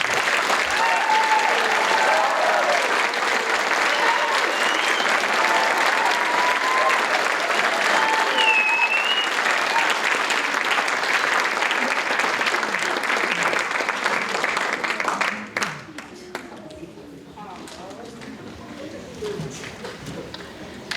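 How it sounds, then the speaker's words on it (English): Sustained applause from an audience in a school auditorium at a National Junior Honor Society induction ceremony, steady and dense for about fifteen seconds before thinning out into scattered claps and quieter room noise. "Please join me in giving them one more round of applause."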